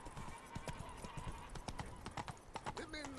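Roach the horse trotting in The Witcher 3, hooves clip-clopping in a quick steady rhythm, close and clear over ambient village noise, with someone speaking briefly.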